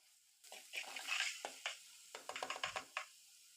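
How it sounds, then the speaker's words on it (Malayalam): Spices and salt are stirred in a pan while preparing drumstick rasam, producing faint, quick scraping taps and a light sizzle, quiet and close. "ഇതെല്ലാം കൂടി നന്നായിട്ടൊന്ന് ഇളക്കി യോജിപ്പിക്കാം"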